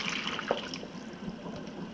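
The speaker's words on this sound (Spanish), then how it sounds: "Le vaciamos el litro de agua." A liter of water poured from close by into a small pot of tomatoes gives a soft, steady splash and trickle for about two seconds, with no voice over it.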